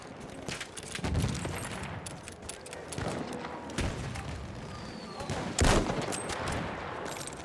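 Machine gun fire in Battlefield 1 during a fort assault, irregular bursts and sharp reports among thuds, moderately loud, with a player talking briefly under the fighting.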